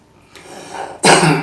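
A single sneeze from a person suffering from fever and cough, a soft indrawn breath building up before a loud, sharp burst close to the microphone.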